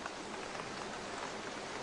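Steady rain falls as a drama sound effect, an even, faint hiss of drops pattering on the ground beside a cage.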